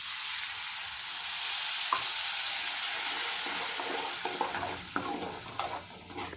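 Lemon juice stirred into lemon rice frying in a pan, a steady close sizzle with soft scraping and clinks of the spoon building in the last seconds, no voices.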